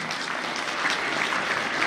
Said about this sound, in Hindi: तो एक बार जोरदार तालियां बच्चों अपने गांव के लिए हो जाएं।